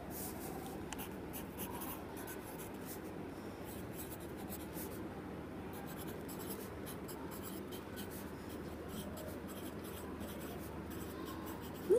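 A pen writes on paper in a science classroom, making a quiet, continuous scratching of short strokes, close up with no one talking.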